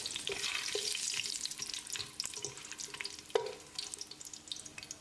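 Whole spices (cinnamon, cloves, cardamom, star anise, bay leaf) fry in oil for Ambur mutton biryani, a quiet crackling sizzle with scattered pops and a couple of sharper clinks, close and faint, no voices.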